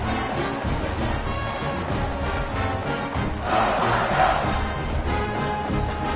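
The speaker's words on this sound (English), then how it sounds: "this crowd now ready to get behind them" A stadium crowd in an American football video game makes a dense, continuous roar and murmur that swells slightly midway, a steady wall of noise with no clear individual voices.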